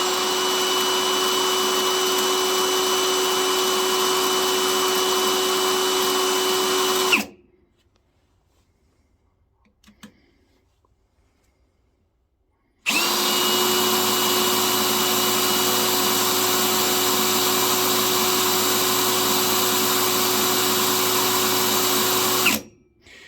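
Parkside Performance PSBSAP 20 LI B2 cordless 80 Nm drill with a 6 Ah battery, run in near-freezing cold, whining loudly at full speed in two long steady bursts separated by a few seconds of near silence.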